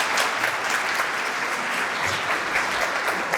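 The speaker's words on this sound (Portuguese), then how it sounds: "Recebam com uma calorosa salva de palmas" Audience applause welcoming a speaker onto the stage at an evening business talk on artificial intelligence in Paranavaí, a dense, steady wash of many hands clapping throughout, fairly loud and without speech.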